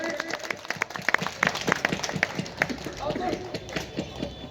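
Audience applause welcoming honoured guest Jitendra Pandey at a felicitation ceremony in Bauddha Nagar, a dense, steady patter of many hands clapping together for several seconds, fairly close and even in loudness.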